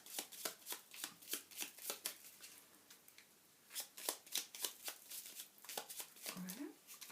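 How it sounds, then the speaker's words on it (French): Tarot cards being shuffled and cut by hand, a run of quick crisp riffling flicks in short bursts, close and clear, with a pause midway and no talking. "je coupe et je prends celle-ci"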